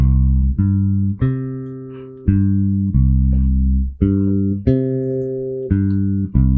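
A deep, plucked bass line plays a Cuban tumbao, repeating a syncopated pattern that never plays the downbeat, notes entering just off the beat with sustained low tones, clear and alone.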